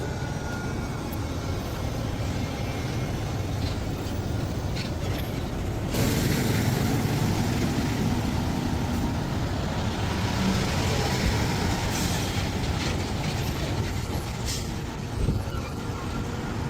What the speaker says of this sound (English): we have an endless, glorious conga line of trucks trying to navigate this one tiny curve